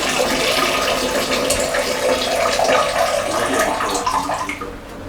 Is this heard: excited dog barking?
no